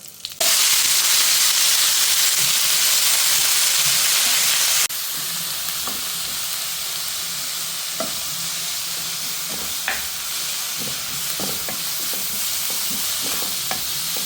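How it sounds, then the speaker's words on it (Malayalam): Crushed chilli, drumstick leaves and salt frying in a pan give a loud, steady hiss, strongest at first and then a little softer, with repeated scraping taps from a stirring spoon and no voices. "നമുക്ക് മുരിങ്ങയിലയും കൂടെ ചേർത്ത് കുറച്ച് ഉപ്പും കൂടെ ചേർത്ത് ഇളക്കിയെടുക്കാം"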